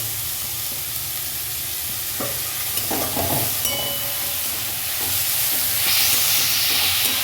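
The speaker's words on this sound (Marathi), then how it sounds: "तिकडं आपलं कांदा शिजतोय परततोय" Finely chopped onion fries for homemade pav bhaji, a continuous loud sizzle and hiss filling the pan, with occasional spatula taps and stirring scrapes and no talking.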